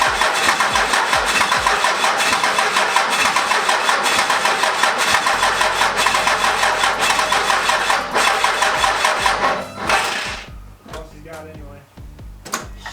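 A Cummins diesel engine cranks steadily with the starter for several seconds, then catches and fires. It settles into a running idle while voices talk nearby.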